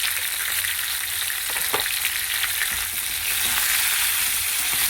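Turmeric and chili powder fry in hot oil in a pan for a green chicken dish. A loud, continuous close-up sizzle runs throughout, with faint stirring scrapes and no voices.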